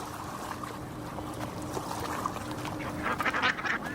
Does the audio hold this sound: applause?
no